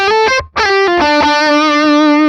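Electric guitar through an amp driven by a Morgan Amps Suite overdrive pedal with gain at noon: a short riff of picked notes, a brief break, then a long saturated sustained note, loud and close without voices.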